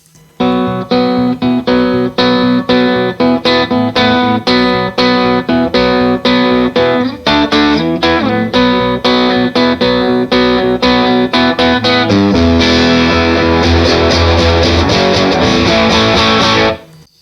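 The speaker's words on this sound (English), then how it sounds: "That's an AC15 hand-wired Vox amp with a PRS S2 Vela" A PRS S2 Vela electric guitar played through a hand-wired Vox AC15 tube amp, recorded raw, crunchy rhythmic chords strummed steadily with slight overdrive, then a sustained, ringing strum near the end.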